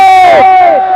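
A large gathered crowd at a religious gathering roars back in unison to a chanted slogan, one loud sustained shout of many voices filling the space, close and overwhelming for its brief length.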